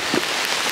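Heavy rain pours down, a dense continuous hiss of drops drumming close by on a surface at a fishing spot.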